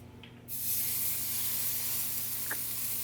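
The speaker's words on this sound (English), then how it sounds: "That's a sizzle, baby." Beef searing in olive oil in a super hot pan, a loud broad sizzle that starts abruptly and holds steady and close, with a faint tick partway through.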